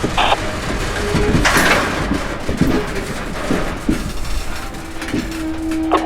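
Freight train M452 passing at Winston, a steady rolling rumble with clanking and squealing wheel sounds close by, plus a brief tonal hum near the end, with no talk.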